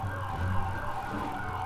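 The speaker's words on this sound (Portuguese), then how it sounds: "eu tô ouvindo sirene" A police siren wails in the video game GTA 5 roleplay, a steady, fairly loud electronic tone sounding continuously without voices over it.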